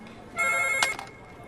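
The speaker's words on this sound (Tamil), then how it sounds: "காலையில இருந்து ஃபோன் அடிக்குது, யாருமே எடுக்க மாட்டீங்க." A telephone rings in an office, one loud electronic ringtone burst of about a second, close and clear, with no voices over it.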